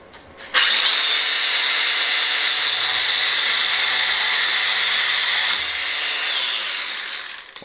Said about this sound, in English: Chop him off with the angle grinder.